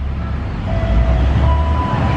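A JR 205 series KRL commuter train at a station, heard as a steady rumble of rolling cars with faint tonal whines rising over it, close and moderately loud, no talk.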